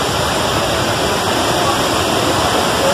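A waterfall roars as a dense, constant rush of falling water, loud and unbroken, with no voices.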